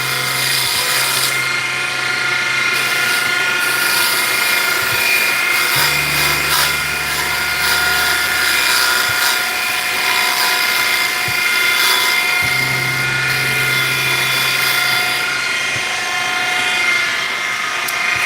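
A wood lathe turns a pen blank in a workshop with a steady, loud, high-pitched whirring drone throughout, its pitch and tone shifting slightly in a few places.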